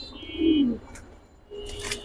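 A Giribaz pigeon gives one low, throaty coo close by in a loft, followed by quieter faint chirps in a calm setting.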